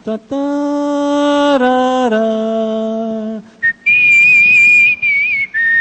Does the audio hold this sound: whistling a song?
yes